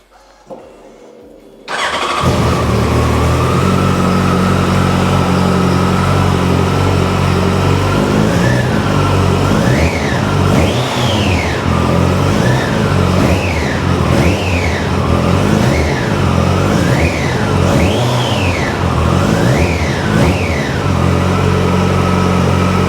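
A Yamaha FZ1 motorcycle with 14,309 miles cranks and fires after a short quiet moment, settles into a steady idle, then gets a series of sharp throttle blips rising and falling in quick succession, close and loud.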